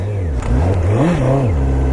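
A 2017 Honda CBR1000RR sport motorcycle engine revs up and down, its pitch rising and falling in smooth swells, loud and close throughout.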